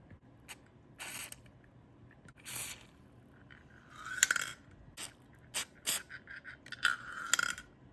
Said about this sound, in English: I used a pair of needle nose pliers and rotated the ball catch counterclockwise